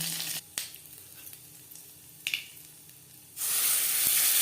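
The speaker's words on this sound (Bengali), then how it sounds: "কড়াইতে তেল দিয়েছি ফোরনে দিয়ে দিলাম" Half a spoon of panch phoron spices frying in hot oil in a karahi for a vegetarian cauliflower and potato curry, a steady close sizzle with a couple of sharp pops, swelling into a louder hiss near the end.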